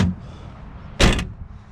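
A 1960s car door shuts with one solid thud, and the loose window glass gives a brief rattle. The sound is close by, with a low hum of the setting before it.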